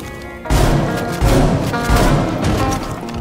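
A grenade blast in Rainbow Six Siege, one sudden booming explosion followed by a dense, rumbling wash of in-game noise and crackling debris that stays loud to the end.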